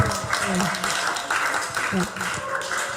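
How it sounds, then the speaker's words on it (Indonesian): An audience at an Islamic study session applauds together, a steady wash of clapping lasting a few seconds, with voices talking over it. "Tepuk tangan untuk kita semua"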